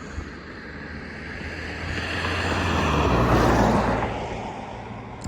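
Traffic on a busy road in South Gloucestershire: a broad, steady rush of passing vehicles, with one swelling louder midway as it goes by, and wind noise on the microphone throughout.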